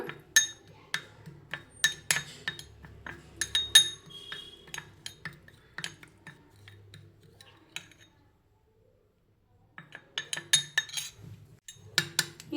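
Metal spoon clinking and scraping against a bowl while stirring gram flour and turmeric into a paste, a quick run of sharp taps, a pause, then another burst of stirring.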